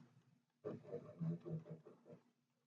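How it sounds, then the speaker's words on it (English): A deep, rumbling animal growl rises suddenly and holds for about two seconds, fairly close and moderately loud, then fades to quiet. "that's just my dog"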